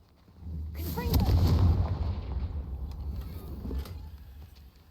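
Fire spell blasts in the Hogwarts Legacy game: a sudden roaring whoosh and rumbling burst that swells, then tails off into a fading low crackle.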